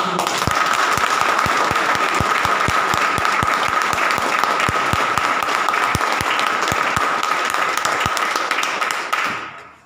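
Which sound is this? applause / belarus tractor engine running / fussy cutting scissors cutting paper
applause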